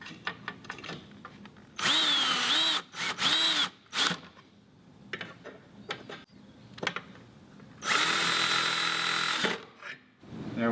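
A power drill drives screws while a RollEase contract pocket roller shade is installed: several short whirring bursts, then a longer run near the end, loud and close, with quiet handling noises between.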